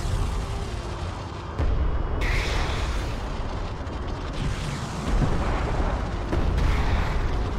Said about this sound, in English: Kana Siege is shooting again.